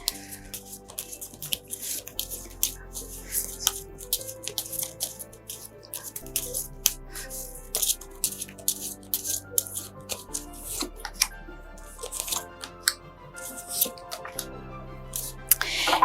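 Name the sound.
tarot cards being shuffled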